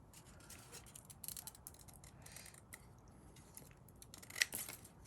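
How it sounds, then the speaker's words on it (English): Faint snips and paper rustling as scissors cut along a folded paper heart, quiet and close with a sharper snip near the end. "And I'll just follow with the scissors."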